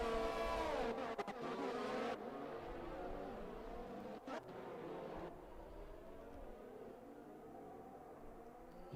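F1 race car engines in F1 2020 at Bahrain whine and rise in pitch, then fade as the car goes wide through a corner, fairly faint with a passing rush and no voices.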